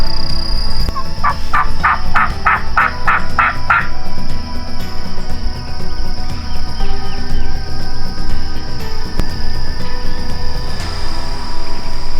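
Wild turkeys in Florida gobble in a quick rattling burst of about eight calls, fairly distant, over steady outdoor background noise and insect hum.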